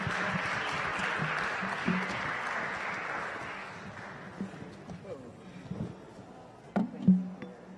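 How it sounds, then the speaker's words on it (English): Audience applause greets the guests at the close of a book talk on democratic socialism, a broad wash of clapping that slowly thins and fades over several seconds as a few voices and scattered claps follow. "let's end with a round of applause for our guests"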